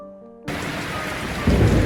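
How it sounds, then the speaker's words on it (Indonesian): Heavy rain pours steadily on a night in a village, with a deep rumble of thunder swelling near the end; the downpour starts abruptly and stays loud and continuous, with no voices. "di tengah guyuran hujan yang melanda di langit desa Karangsari"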